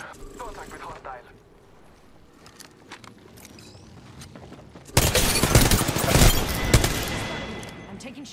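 Gunfire in the video game Apex Legends played on console: sparse distant shots and clicks, then a loud, dense burst of rapid fire that crackles on for a few seconds, with some talk under it.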